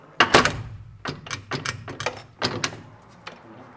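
A door rattled and thumped repeatedly as someone tries to open it, several sharp knocks and clunks in quick irregular bursts, fairly close with a quiet room behind.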